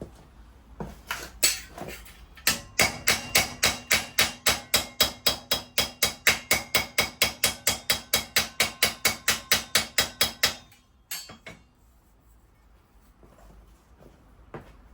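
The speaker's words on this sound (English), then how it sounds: "I'll just give that a couple of knocks with the hammer." A hammer strikes a metal boot floor panel for a Nissan Figaro restoration in a fast, steady run of about thirty sharp, ringing knocks, with a few scattered taps before and after.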